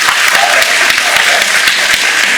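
An audience of schoolchildren claps loudly at a school event, a thick, close burst of rapid applause filling the whole moment with faint crowd murmur beneath.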